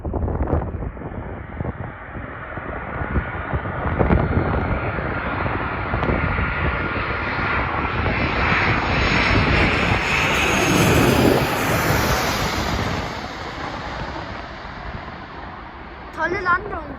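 A Ryanair airliner arriving from Mallorca lands at Karlsruhe/Baden-Baden airport, its engine roar loud and sustained throughout with wind buffeting the microphone, swelling toward touchdown and easing near the end.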